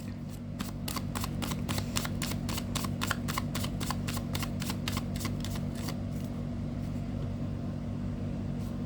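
Tarot cards are shuffled in a fast, steady riffle of crisp flicks over several seconds, thinning out toward the end, above a constant low hum.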